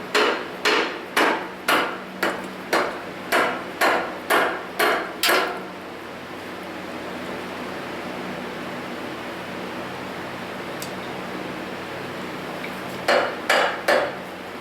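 A plastic hammer taps repeatedly on a cast iron part during a forklift engine teardown: about ten sharp, evenly spaced knocks up close, then a quiet pause with steady background hiss, then a quick final burst of three or four taps.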